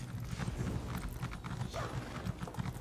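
Horse hooves clip-clop in the Elder Scrolls Online video game, a quick, uneven run of close, hollow hoofbeats over a dense background of game ambience, with no talking.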